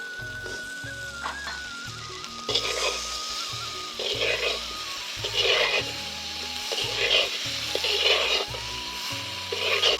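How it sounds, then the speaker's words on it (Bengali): Potato and cauliflower are sautéed and stirred in a pan, giving a steady, moderate sizzle with recurring scraping swells from the stirring over about ten seconds. A faint background tone is also present. "এখানে আলু ফুলকপিটা কষিয়ে নিয়েছি, কষানো হয়ে গেছে।"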